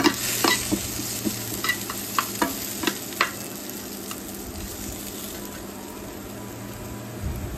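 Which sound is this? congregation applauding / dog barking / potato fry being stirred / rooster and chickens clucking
potato fry being stirred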